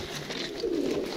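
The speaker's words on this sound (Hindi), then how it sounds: "तो आ कबूतर है जी" A pigeon gives a soft, low coo against steady background noise, faint and brief.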